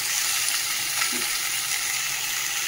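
Spices for a tempering sizzle in hot oil, a steady, dense hiss that stays close and even for its whole short length, with no voices.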